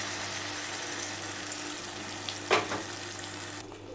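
Blended tomato juice poured into a hot frying pan of fried ingredients for kaju paneer butter masala: a steady sizzle with a sharp splashing burst midway, then a quieter simmering hiss.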